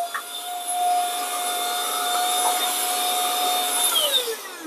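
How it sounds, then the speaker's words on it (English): A small, compact handheld vacuum cleaner whines steadily while sucking up spilled coffee grounds beside a DF64 grinder, loud and close, its pitch dropping as it winds down near the end with no talking. "let me grab my vacuum cleaner and clean up"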